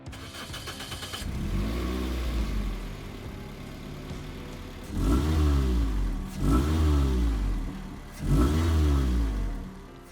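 A Toyota-powered Snark ATV engine cranks and catches, settles into a smooth idle, then is revved in three distinct bursts that rise and fall, close and loud.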